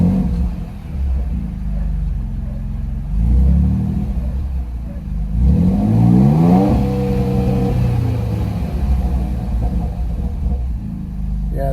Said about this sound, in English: this turbo, it doesn't rev like a normal car.